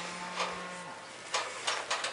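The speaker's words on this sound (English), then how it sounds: "Well, the cows are active today." Cows moo nearby, one low drawn-out call followed by several shorter bursts of lowing, with faint outdoor background.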